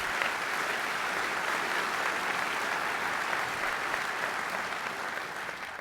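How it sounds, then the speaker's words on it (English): Sustained applause from a large audience at a symposium keynote, dense and steady throughout, tapering slightly at the end. "a round of applause"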